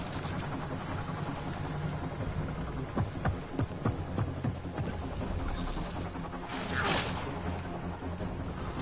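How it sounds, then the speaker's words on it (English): Rain falls during a Mass Effect Andromeda firefight, a steady hiss beneath scattered sharp impacts and shots, with a couple of whooshing swells later on. "Hard to get a good shot in this rain."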